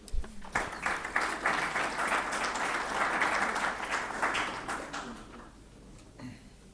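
An audience at a water observatory launch event applauds to welcome a speaker to the stage, with clapping that starts abruptly, stays sustained and fairly distant, then tapers off.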